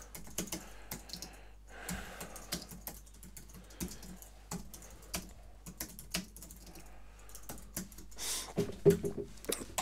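Keys on a computer keyboard tapped in irregular bursts of clicks, fairly close and quiet, with no voices over them.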